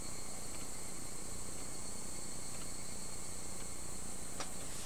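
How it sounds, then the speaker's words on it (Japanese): Cicadas buzz in a video game, a steady, dense, high-pitched drone that holds evenly throughout with no voices, faint and continuous like a distant summer chorus. "また一つセミの声が減ったような気がした。"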